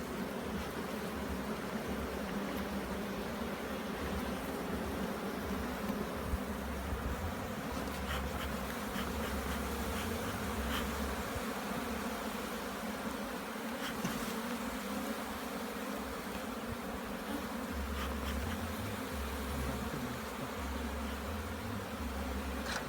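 Honeybees buzz around an open hive during a Jamaican beehive inspection, a dense continuous swarm hum at low, steady level with individual bees droning nearby now and then.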